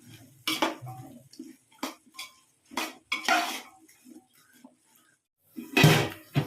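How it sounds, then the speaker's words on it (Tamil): A ladle clatters and scrapes in a pot of biryani as yogurt and biryani spice powder are stirred in, in irregular bursts of metallic knocks with quiet pauses between. "இப்போ நல்லா கிண்டிக்கணும்."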